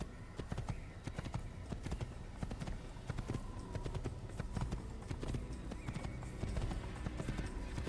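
Horse hooves clip-clop in a steady, continuous rhythm in Assassin's Creed, the galloping beat close and clear with no talking over it.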